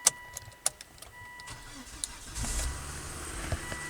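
After an axle rebuild, a car sits quiet with a few light clicks and knocks, then its engine cranks and catches about midway, settling into a low, running rumble; faint and fairly close.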